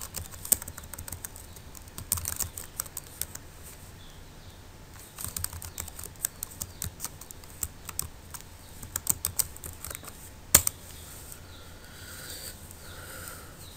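Rapid keystrokes on a computer keyboard entering a PTCL modem login, irregular clicks in bursts with short pauses and one louder key strike near the end, close and alone.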